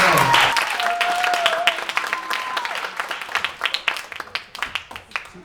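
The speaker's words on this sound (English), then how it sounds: "Everybody give her a big round of applause." Audience applause at a magic show, loud at first and thinning into scattered individual claps, with a voice speaking briefly at the start.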